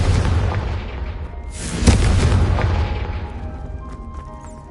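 A Confringo fire spell detonates in Hogwarts Legacy, a loud booming blast with a sharp crack near two seconds over a sustained roaring rumble that slowly fades, no voices.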